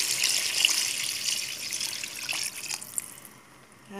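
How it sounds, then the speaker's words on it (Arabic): About a litre and a half of water poured into a cooking pot, a steady splashing hiss that thins toward a trickle near the end. "دوكا ندير لتر ونص تاع الماء"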